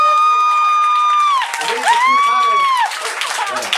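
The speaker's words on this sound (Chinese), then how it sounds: "给刘哥掌声鼓励一下" An audience at a small live music venue breaks into applause with whoops and high cheering calls, loud and close, and the clapping continues as the calls fade.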